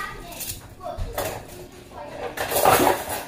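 Dishes being washed by hand in a home kitchen, with plates, pots and cutlery clattering and clinking close up in short, irregular bursts.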